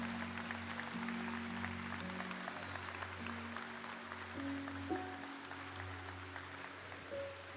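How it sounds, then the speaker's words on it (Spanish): A church congregation claps together at a Sunday morning service, a dense, steady wash of applause that fills the room while sustained organ or keyboard tones ring underneath. "denle un fuerte aplauso al Señor en esta mañana."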